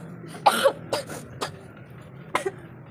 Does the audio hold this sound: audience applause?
no